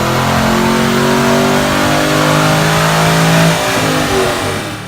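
An AMC car engine revs hard and steadily on a dyno during its final pull, a loud continuous roar with rising pitch that holds near full throttle before easing off at the end, with no talking.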